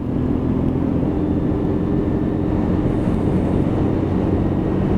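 A WK Scrambler 125cc motorcycle rides through a roundabout, its engine a steady low drone buried in heavy, constant wind rush and road roar, loud and unbroken throughout.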